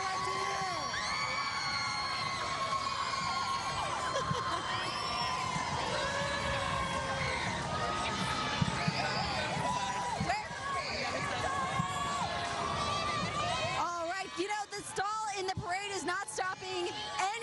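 A large parade crowd at Fiesta Flambeau in downtown San Antonio cheers and shouts continuously, loud, with children yelling and whoops, then thins near the end as nearby voices talk.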